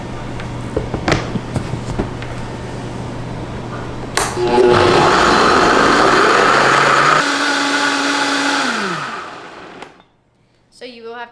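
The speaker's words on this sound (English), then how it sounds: "My blender feels like it's on its last legs." An old blender nearing the end of its life whirs hard through an oat mixture with a loud motor drone that strains and shifts pitch, then cuts out. Brief talk comes before it starts.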